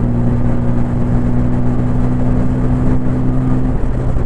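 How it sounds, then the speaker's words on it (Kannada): A TVS Apache RTR 160 4V motorcycle held at full throttle in third gear, its engine a loud, steady drone with a constant whirring hum throughout, close up and with no voices. "3rd ಗೇರಲ್ಲಿದ್ದೀನಿ. ಫುಲ್ ಥ್ರಾಟಲ್ ಕೊಟ್ಟಿದ್ದೀನಿ."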